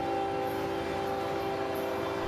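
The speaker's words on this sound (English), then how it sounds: "G576, a northbound empty grain train out of Tampa for the BNSF interchange in Birmingham, Alabama" A CSX northbound empty grain train led by BNSF locomotives rumbles past on a Florida mainline, a steady loud roar with sustained engine drone tones and no voices.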